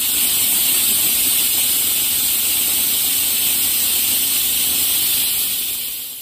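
A pressure cooker steaming while turkey kabsa with basmati rice cooks, giving a loud, steady, high hiss of escaping steam that holds unbroken for several seconds before tapering off at the end.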